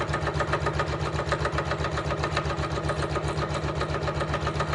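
Janome MC9900 sewing machine stitching a fabric drawstring bag, a steady fast mechanical whir with even rhythmic needle pulses, close and continuous, with no talking.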